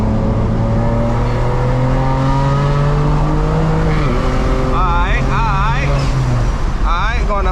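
A tuned Stage 4 BMW 335i accelerating on a highway, the engine pitch rising through gear changes, with wind rush and brief tire chirps toward the end, loud and continuous, with someone speaking.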